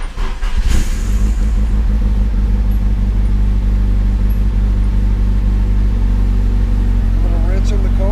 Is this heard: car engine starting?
yes